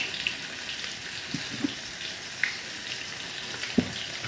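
Vegetables frying with ginger paste in hot oil in a village kitchen, a continuous soft sizzle with occasional faint pops and crackles, steady and close.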